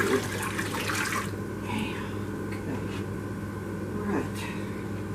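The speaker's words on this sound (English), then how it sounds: "A little bit more hot water, and just make sure they're good and hot." Hot water is poured over green tomatoes packed for sweet pickles, a steady near splash and pour running under a brief spoken word.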